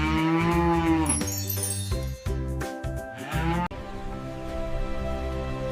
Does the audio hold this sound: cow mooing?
yes